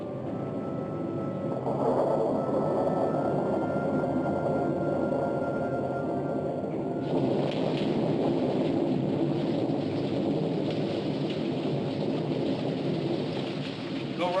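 Steady rain pours outdoors beside a gravel farm road during a thunderstorm, with a rolling rumble of thunder and a dense, continuous hiss that swells partway through; no one speaks.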